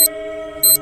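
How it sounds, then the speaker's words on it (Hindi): A morning alarm clock in a cartoon gives two short, sharp, high beeps about half a second apart over a steady ringing electronic tone, loud and close. "सुबह होने पर अलार्म बजता है"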